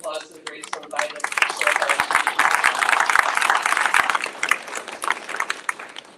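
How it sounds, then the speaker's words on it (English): An audience at an evening winter lecture series breaks into sustained applause, dense clapping building quickly and holding steady for several seconds before thinning out, with scattered voices beneath. "let's give a big round of applause to the Great Stone Viaduct"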